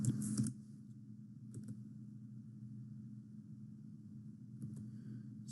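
Computer keyboard typing, a few brief soft clicks close by over a steady low hum.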